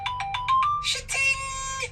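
Text message notification tone on a phone: a quick string of short bright chime notes rising into a longer ringing flourish, loud and clear with no talking over it.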